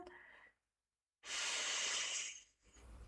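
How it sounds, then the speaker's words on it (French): A single deep breath drawn in through the nose, a long, steady hissing inhalation lasting over a second, close and fairly loud, following a softer breath and a short silence, with a quieter exhale trailing after. "Inspire complètement par le nez, dans le ventre, puis dans la poitrine."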